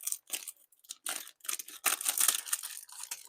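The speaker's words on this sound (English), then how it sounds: "Sorry for the crinkly paper." Crinkly paper rustles and crackles close up in irregular bursts as it is unfolded and handled.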